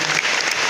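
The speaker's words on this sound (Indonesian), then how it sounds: "Saudara boleh beri tepuk tangan buat teman-teman semua" A congregation at a church installation service for regional and LIFE leaders breaks into applause, a loud, dense burst of clapping that lasts under a second.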